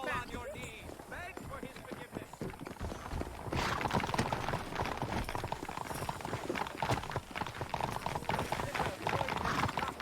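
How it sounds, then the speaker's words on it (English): Rapid hoofbeats of galloping horses in Red Dead Redemption, a steady drumming clatter that grows louder and denser midway, with game-like background sound underneath. "I asked Nastas to bring the horses around front."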